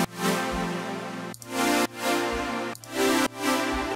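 Sustained synth or keyboard chords enriched with an added scale tone between the lower notes, played as four loud, swelling blocks with brief gaps between them and no talking.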